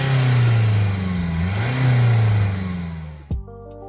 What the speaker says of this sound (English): It is a diesel at the end of the day, but you can't deny this one does sound pretty good.